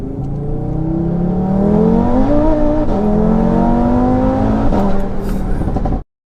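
A 740bhp four-wheel-drive Audi RS3 accelerates hard, its engine note climbing steadily through rising revs with brief drops at gear changes, loud and close from inside the car, cutting off sharply at the end.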